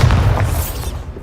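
A single Bombarda explosion spell in Hogwarts Legacy, one deep close boom with a short rumbling decay, loud and on its own without speech.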